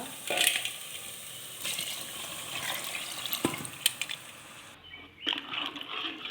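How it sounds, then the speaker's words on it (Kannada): Water poured into cooked masala in a pan for a jackfruit seed curry, a steady splashing pour with a short break before a brief final burst. "ಮಸಾಲೆ ಸ್ಮೆಲ್ಲ ಹೋಗಿದೆ ಇವಾಗ ನೀರು ಹಾಕೋಣ"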